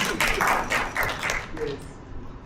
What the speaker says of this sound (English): a hand clap, father and son